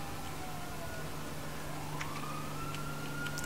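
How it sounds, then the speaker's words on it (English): Wailing police sirens in a video game rise and fall steadily over a constant low hum, sounding moderately close and continuous throughout. "I hear police sirens."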